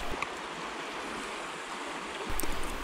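River water rushes loudly and continuously at a desolate bottle dump, a dense close wash of flowing water with a brief surge near the end.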